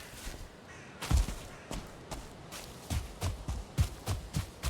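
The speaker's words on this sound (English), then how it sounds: "Did the crow land here? Or am I just hearing other crows?" Crows caw in Valheim, a Norse-themed video game, as a series of harsh calls over a steady outdoor ambience, mixed with irregular thuds that may be footsteps, with no talk.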